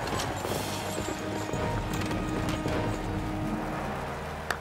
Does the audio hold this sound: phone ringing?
no